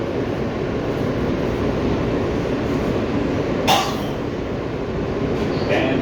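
An R160B Siemens Q local subway train rolls along the BMT Brighton Line toward Coney Island, a steady loud rumble and wheel roar filling the car with one brief sharp clank partway through.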